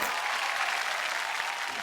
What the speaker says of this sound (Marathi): एकदा जोरदार टाळ्या ताईंसाठी होऊन जाऊ देत